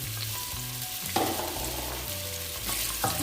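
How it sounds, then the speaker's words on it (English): Onions hit a hot pan for a turkey ravioli sauce and fry with a loud, steady sizzle, broken by scraping stirring sounds. Nobody speaks. "So now I will add onions."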